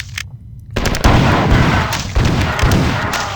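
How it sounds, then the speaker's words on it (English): Shotgun blasts and exploding grenades in the first-person shooter game Marathon 2: Durandal, with loud booming shots going off repeatedly in close succession after a brief quiet start. "There are a lot of troopers in here, firing a lot of grenades, but thankfully I have shotguns and a lot of shotgun ammo."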